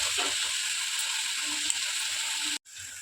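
Onions and green chillies sizzle steadily in a pan, a continuous close frying hiss with faint stirring clicks, broken by a brief dropout near the end.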